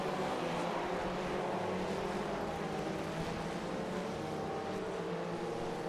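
A Formula Ford race car engine in the iRacing simulator hums with a steady low drone throughout, an even idling rumble with no revving or change in pitch.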